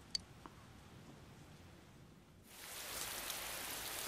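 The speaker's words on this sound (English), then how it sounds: "You can hear it raining outside." Rain falling outside at night in the video game Persona 4 Golden, a soft hiss that starts faint with a couple of small clicks, then swells into a steady, fuller downpour.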